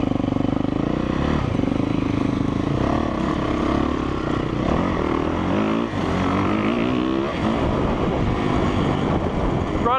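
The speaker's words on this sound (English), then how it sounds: "oh, Trevor got his bike running, that's cool" A 2017 Yamaha YZ450F dirt bike engine running, a loud rough four-stroke drone with revs rising and falling, heard close among wind buffeting on the microphone.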